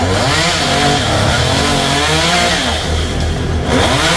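A chainsaw cutting into a coconut tree beside a wall roars loudly and continuously at full throttle, its engine pitch wavering slightly as the chain bites through the trunk.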